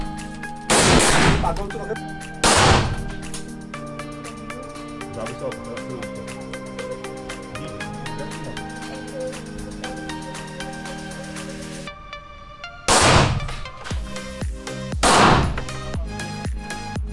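Gunshots fired at a shooting range in Poland, a few loud, sharp reports standing apart from one another against a steady background hum, with a person speaking between them.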